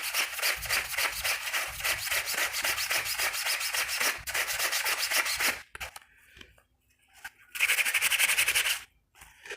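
A brush scrubs the cuff of a school uniform in fast, rhythmic back-and-forth strokes, loud and close. A short pause follows, then another burst of scrubbing.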